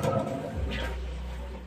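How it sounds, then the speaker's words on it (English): A household toilet flushes in a small bathroom, a full rushing gush of water that swells quickly and then settles into a steady, fairly loud low whoosh of the tank and bowl refilling, with no voices. "Then now let me flush."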